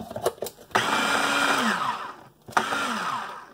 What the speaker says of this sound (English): And just blend it.